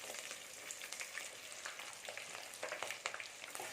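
Onions, small shallots and garlic frying in oil in a pan for Tamil kara kuzhambu, a steady close crackling sizzle with occasional louder pops and stirring, no voices.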